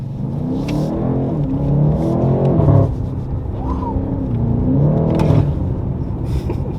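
A BMW M8 Competition engine revs and pulls hard under 4,000 RPM, rising in pitch in surges with a brief drop between, loud and close with steady road rumble beneath.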